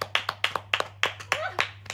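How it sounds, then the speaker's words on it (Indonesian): Sharp hand claps ring out one by one at a steady, quick pace, about eight distinct smacks in a row close to the listener, with a voice speaking between them over a low electrical hum. "Coba tepuk tangan."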